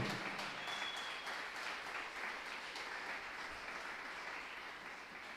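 Congregation applauding during a church sermon, a faint, distant, continuous wash of many hands clapping that stays even and slowly softens across the stretch.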